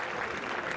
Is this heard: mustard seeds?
no